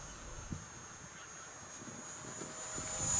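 An RC model Spitfire plane runs its engine at full throttle, a thin, distant high-pitched whine and drone heard faintly over outdoor background noise. The sound slowly swells louder toward the end.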